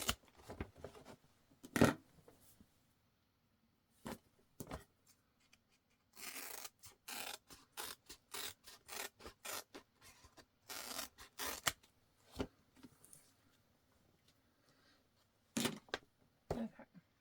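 Scissors trimming fabric while a gift bag is sewn, giving a series of sharp, close snips and rustles in irregular bursts separated by near silence.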